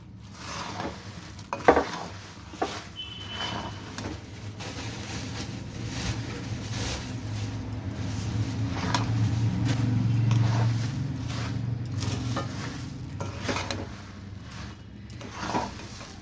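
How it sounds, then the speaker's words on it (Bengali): Puffed rice is stirred into melted jaggery in a pan, giving a continuous close scraping, rustling churn with occasional sharp clinks of the spoon against the metal. "মুড়ি দেবো, দিয়ে নেড়ে নেবো ভালো করে।"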